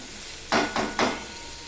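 Potatoes and onions frying in a pan with salt, heard as three short close bursts of sizzling or stirring over a quiet background.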